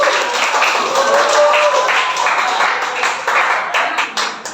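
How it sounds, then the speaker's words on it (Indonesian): A group in a teacher training class gives applause, a steady dense wash of clapping that holds for several seconds and then tapers into a few separate claps near the end. "Ya, berikan tepuk tangan."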